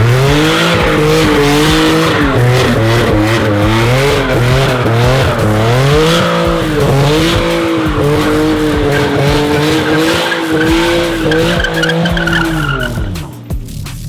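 Nissan 350Z drift car with a VQ engine doing a burnout, loud sustained engine note rising and falling with throttle under constant tire squeal, close and continuous for about fourteen seconds.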